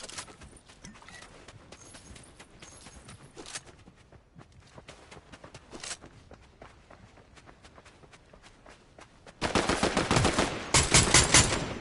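Rapid gunfire in the video game Fortnite, with a busy string of sharp shots through the clip that grows louder and denser near the end.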